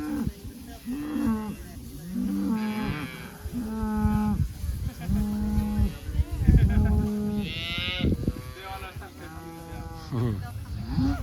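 Cow-calf pairs on Alberta pasture moo repeatedly in long, close calls that overlap one another, with a few higher bleat-like calls among them and steady herd noise behind.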